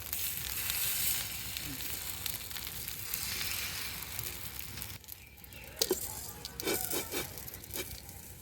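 Chitoi pitha batter cooking in a lightly oiled pan, giving a steady, close hiss of sizzling that continues throughout, with a few brief clicks and knocks near the end.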